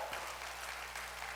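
A congregation at a church mountain revival meeting claps hands together in a brief burst of dense, fairly faint applause.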